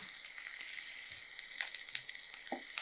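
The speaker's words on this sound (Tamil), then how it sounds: "இந்த இடத்துல இந்த வெங்காயம் வந்து வதங்கணும்" Sliced onions, green chilies, bay leaf, cloves, cinnamon and cardamom fry in hot oil in a kadai for semiya biryani, a steady close sizzle with occasional soft stirring scrapes and no talking.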